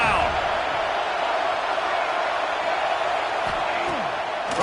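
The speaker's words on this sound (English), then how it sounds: "The Tide crowd rolling noise down onto Saban Field on 3rd down." The Crimson Tide home crowd at Saban Field roars on third down during a football game, a dense, loud and continuous stadium din with no breaks.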